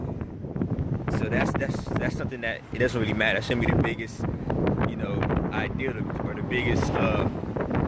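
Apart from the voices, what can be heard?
wind blowing outside, wind noise on microphone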